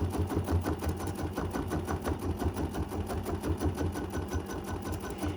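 An embroidery machine runs edge-to-edge quilting on a mini quilt, a steady, rapid, rhythmic stitching chatter that continues unbroken and close-up throughout.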